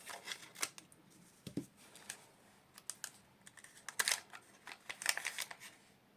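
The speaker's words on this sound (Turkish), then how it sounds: "Şimdi kalan son paketi, iki paketimizi açalım." A Disney Mini Brands blind-box package being opened: scattered crinkles, clicks and tearing of plastic wrapping, close and fairly quiet, in irregular bursts with pauses between them.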